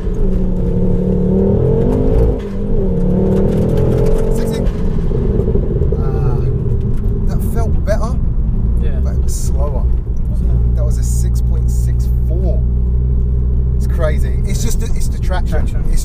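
A Stage 4 490bhp Ford Focus RS accelerates on a timed run: a loud engine drone climbs and shifts through rising revs and a deep rumble, with people talking over it throughout.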